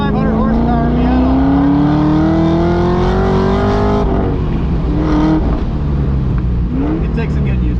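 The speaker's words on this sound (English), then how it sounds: "this is a 500 horsepower Miata" A 500-horsepower V8-swapped Mazda Miata driving, the engine's loud steady drone rising in pitch under acceleration then easing and climbing again, heard from inside the car with people talking over it.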